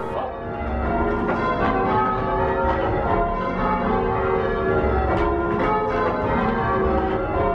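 Church tower bells ring changes, a continuous dense peal of overlapping strikes that shuffle order, loud and sustained throughout.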